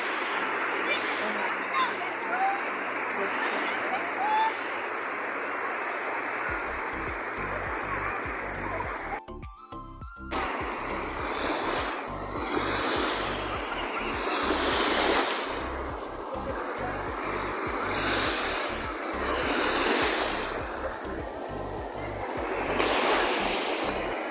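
Cold Baltic Sea waves wash steadily onto the shore at Kołobrzeg, a broad continuous surf roar with gusting wind, loud and close throughout, with a brief burst of handling noise partway through and a person's voice talking now and then.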